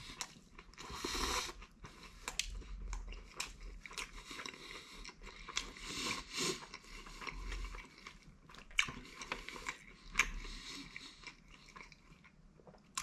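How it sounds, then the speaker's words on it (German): Someone bites into an XXL burger pizza topped with broccoli, then chews it close-up with irregular bursts of crunching and wet mastication over several seconds, with no talking. "schauen mal, ob man da vorne reinbeißen kann, wenn man die in die Hand nimmt"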